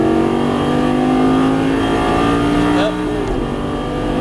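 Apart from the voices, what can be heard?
Lamborghini Gallardo engine accelerating on track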